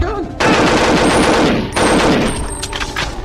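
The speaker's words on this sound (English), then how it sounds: "when I shot the presidential clone, all the Mr. Blondes that were down in that cavern decided to run up and try to kill me" Loud rapid automatic gunfire in the video game Perfect Dark, two long bursts of rattling shots separated by a brief gap, then scattered trailing hits.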